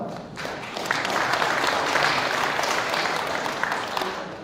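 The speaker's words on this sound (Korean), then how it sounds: "뜨거운 박수 부탁드리겠습니다." A crowd applauds warmly, the clapping swelling quickly and holding steady for several seconds in a large room.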